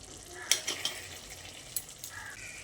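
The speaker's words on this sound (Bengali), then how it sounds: "চিনিটা দিয়ে কুমড়োর সঙ্গে ভালো করে নেড়েচেড়ে মিশিয়ে নিচ্ছি।" Pumpkin and sugar stirred in a pan, with soft frying hiss beneath a few crisp clicks and scrapes of a spoon against the pan, close and quiet.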